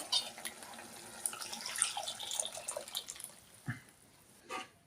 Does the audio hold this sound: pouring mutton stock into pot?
yes